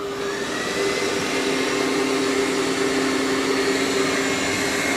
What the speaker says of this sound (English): mop pads are lifted and it's going to vacuum that carpet